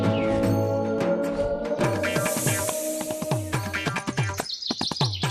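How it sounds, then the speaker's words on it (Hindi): Baby birds chirp in rapid, high-pitched peeps, many short calls overlapping and repeating, close and fairly loud. "चिड़िया के बच्चों की आवाज"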